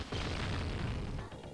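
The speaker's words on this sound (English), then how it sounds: "It's a shotgun, a variation on a shotgun. It's quite powerful." Powerful shotgun-variant blasts from the Sega Mega Drive game Robocop Versus The Terminator, a dense run of booming shots that fills the clip loud and close, then thins into smaller pops near the end.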